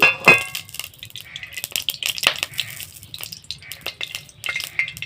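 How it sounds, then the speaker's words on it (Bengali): Mustard oil poured into a hot wok gives a soft, crackly sizzle with scattered clinks of utensils against the pan, close by and moderately loud. "এখানে আমি সরিষার তেল দিয়ে দিচ্ছি"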